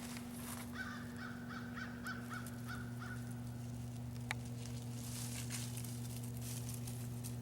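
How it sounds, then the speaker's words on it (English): Fighting crows caw in a quick run of harsh calls, about eight in a row, at moderate distance outdoors. A steady low hum continues underneath, and the calls are followed by scattered rustling. "Those crows were fighting."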